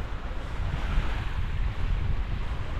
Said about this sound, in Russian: Но море здесь более открытое, поэтому волна тут выше.